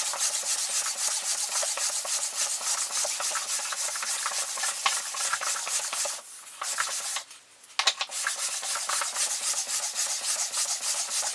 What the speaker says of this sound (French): cette cale de ponçage qui appuie donc sur les champs de l'établi